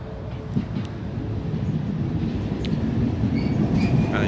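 Boeing 737 MAX airliner taxiing at Newcastle Airport, a steady low rumble of jet engines at a distance with a faint rising whine, continuous throughout with no talk.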